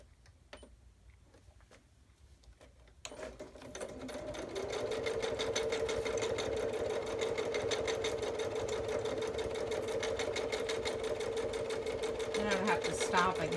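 After a few quiet seconds of handling, a sewing machine starts up and runs a straight stitch around fabric for a craft project, a close, steady whirring hum with fast rhythmic clatter that continues unbroken to the end.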